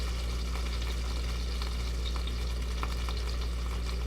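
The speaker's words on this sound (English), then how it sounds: "I'm going to get some sear on the side, not long." Teriyaki salmon sears on its side in a hot pan, a steady, close, dense sizzle that holds evenly throughout with no voices.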